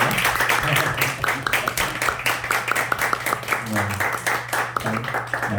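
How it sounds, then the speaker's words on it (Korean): A Korean church gathering applauds a pastor, steady dense clapping from the congregation over a low sustained hum, with faint voices mixed in beneath the claps. "우리 전성희 목사님께 감사의 우리 박수 드리겠습니다."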